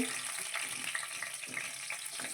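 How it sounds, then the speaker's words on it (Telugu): Whole spices with cardamom and cinnamon fry in a pan for village-style country chicken kurma, making a soft, continuous sizzle with faint stirring throughout. "చక్కగా వేయించేసుకొని వేగుతూ ఉంది కదా"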